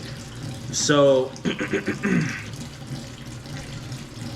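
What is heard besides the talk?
tap water running while washing chicken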